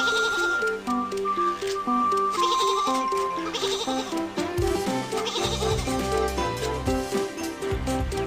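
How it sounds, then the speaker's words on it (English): Cartoon sheep bleat on a train track amid a busy, loud music score, their calls blending into the steady soundtrack. "Some sheep are on the train track."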